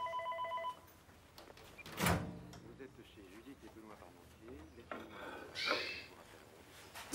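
A telephone gives a short electronic ring with the answering machine switched on. The ring comes first and is brief, then clunks and people talking follow.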